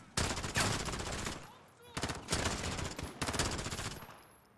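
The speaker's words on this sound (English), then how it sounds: "They're shooting at the civilians." Rapid automatic gunfire in a Call of Duty: Modern Warfare campaign mission, loud close bursts of repeated shots in three clusters with short pauses between them.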